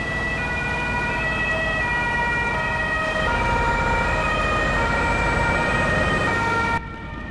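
A police car siren wails in Euro Truck Simulator 2, a loud continuous pitched wail rising and falling over engine rumble that persists for several seconds before cutting off abruptly near the end.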